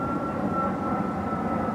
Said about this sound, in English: Listen to that plane activity.